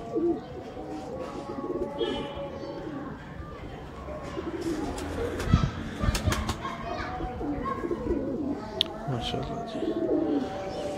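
Prized 79-wale pigeons coo in soft repeated bursts at close range, mixed with children's chatter and someone talking over the birds.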